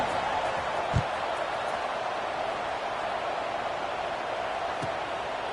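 Crowd noise fills a college football video game stadium, a dense, steady roar of murmuring fans that holds evenly throughout with a couple of faint thumps.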